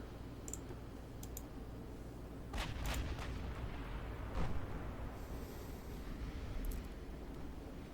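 Warship guns firing in the naval game Ultimate Admiral Dreadnoughts, several sharp reports at irregular intervals over a low steady rumble, some near and some far-off, with faint clicking between them.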